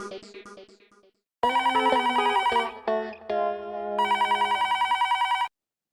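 A telephone rings indoors with an electronic melodic ringtone: loud, tonal bursts after a short musical lead-in, with no voices over it.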